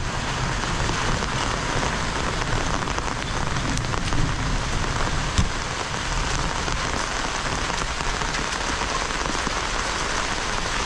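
Steady rain pours down on a surface, a dense continuous patter with no pauses, fairly close and even throughout.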